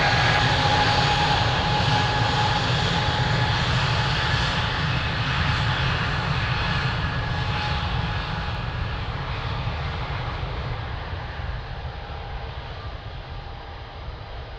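An airliner takes off from runway 02 at Lisbon Airport, a loud sustained engine roar that slowly fades as it climbs away, heard alone without voices.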